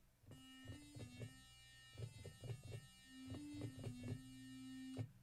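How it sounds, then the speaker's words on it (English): Smooth sine-wave synth tones in Logic Pro X play a simple bass-heavy pattern of short, evenly pulsed notes with a sustained hum underneath, no voices. "So your smooth sine wave is this"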